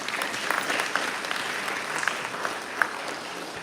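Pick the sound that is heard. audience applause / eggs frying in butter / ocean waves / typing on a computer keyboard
audience applause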